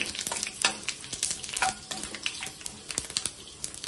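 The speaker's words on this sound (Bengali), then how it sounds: "এবার এই তেলের মধ্যেই আমি 2টো তেজপাতা, 2টো শুকনো লঙ্কা আর 1/4 টিস্পুন গোটা জিরে ফোড়ন দিয়ে দিলাম।" Two bay leaves, two dried red chillies and whole cumin tempering in hot oil, a busy crackling sizzle dotted with sharp spluttering pops and stirring clicks, close and steady throughout.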